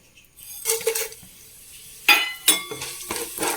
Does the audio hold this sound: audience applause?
no